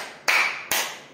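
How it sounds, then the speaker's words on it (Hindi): Three sharp, separate hand claps spaced about half a second apart, closing a standing exercise routine for seniors; each is close and crisp with a short fade before the next. "अब आप ताली बजा लीजिए"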